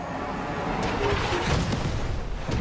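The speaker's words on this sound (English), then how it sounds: "Missile strikes incoming." Missile strikes land in Call of Duty Advanced Warfare multiplayer, a dense, loud wash of rumbling blasts and booms rolling continuously, with faint voices mixed in.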